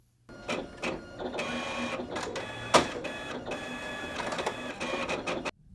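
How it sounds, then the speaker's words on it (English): A Packbot 3000 card pack machine jams on a Time Spiral Tournament pack, giving off a fairly faint, continuous mechanical whirring and grinding with rattling bursts and one sharper clack midway before stopping. "Sounds like you got something jammed."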